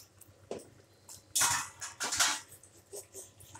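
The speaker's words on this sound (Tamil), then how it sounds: "இப்போ வந்து கொரியாண்டரும் மின்ட்டும் போட்டு நல்லா கிண்டிக்கோங்க மிக்ஸ் பண்ணிக்கோங்க" Coriander and mint being stirred into mushroom biryani in a pot, giving a few soft scraping and clinking bursts of a spoon against metal, moderately close, with quiet gaps between strokes.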